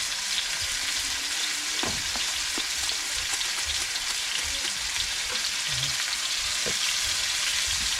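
Food frying in a pan with a steady broadband sizzle, salt having just been added, while it is stirred; occasional soft scrapes and clicks from the utensil stand out over the continuous crackle, with no talking.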